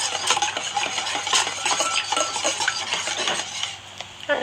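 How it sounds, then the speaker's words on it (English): Vegan cupcake batter is whisked in a bowl, a busy rhythmic scraping and clicking of the whisk against the sides, close and fairly loud, running without pause. "whisk this together until everything"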